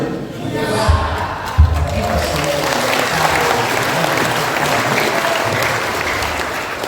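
Loud, sustained applause and crowd cheering from a large audience at an Isra' Mi'raj commemoration and joint prayer at a detention center, with shouts rising over the steady clapping.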